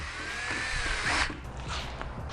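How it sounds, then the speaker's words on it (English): A power drill whirs close up while cleaning drum brake parts where the brake pads sit, its motor whine rising and falling over about two seconds of steady work. "So for that, we're gonna get this drill here."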